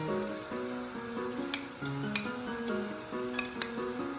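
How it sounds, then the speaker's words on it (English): Yogurt sauce and tomatoes go into browned ground meat in a pan while cooking Bombay biryani, giving a low sizzle with spoon stirs and a few sharp clinks against the pan, close and clear. "The meat is fully brown, you can add in your yogurt sauce and tomatoes."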